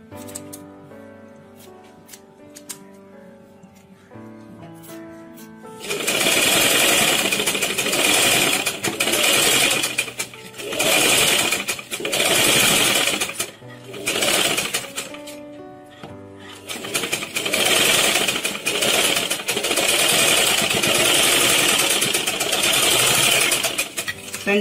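A sewing machine stitches the seam of a sleeveless umbrella frock in two loud, fast-running bursts with short pauses between them, following a quieter opening stretch with a voice.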